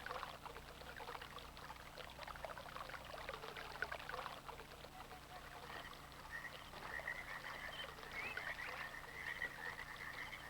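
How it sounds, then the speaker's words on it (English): Quiet ambient water in the game Myst's Channelwood Age, a soft continuous wash of water alongside frog-like croaks and low background murmur, subtle and unbroken. "I can hear water."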